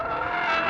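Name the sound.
Porsche Panamera Turbo S E-Hybrid V8 driving on race circuit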